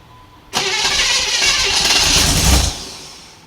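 A 1955 Chevy 265 V8 fires up for its first start: a sudden catch, then a loud, close, steady engine roar for a couple of seconds before it eases slightly.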